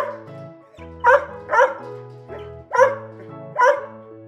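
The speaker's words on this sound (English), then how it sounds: "This is a dog." A dog barks five times in a loose, uneven rhythm, close and loud, over a soft background of sustained music notes.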